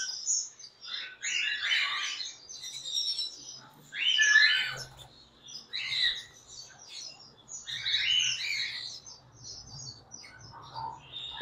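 Chirping from a Robino breeder bird pair, a Robino female with a split-Robino male, in short bright bursts of calls and tweets at close range, repeating every second or two with no voices.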